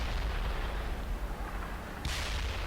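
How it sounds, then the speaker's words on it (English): Artillery barrage in the tank simulator Steel Beasts Pro: a steady low rumbling roar of distant shelling and gunfire, ending in a sharper, brighter burst near the end. "Because that barrage is still ongoing."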